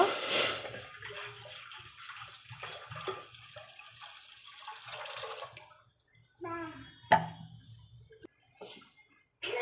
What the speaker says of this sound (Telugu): దాంట్లో టూ లీటర్స్ వాటర్ వేస్తున్నాను అనమాట